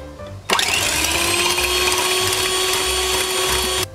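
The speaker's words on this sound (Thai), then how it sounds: "ตีด้วยสปีดสูงค่ะ" An electric mixer switches on at high speed to whip egg whites with lemon juice, a loud steady whine that holds for several seconds and then cuts off abruptly.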